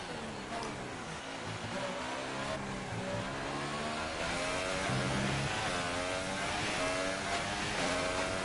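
A Formula 1 car in the F1 2018 racing game powers through a qualifying lap, its engine a loud, continuous high-pitched whine rising and falling with gear changes and throttle, with no talking over it.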